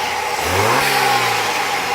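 A 2016 BMW X3 28i M Sport's turbocharged engine revs up, climbing in pitch then easing back down, fairly loud and close, with a steady mechanical hum underneath.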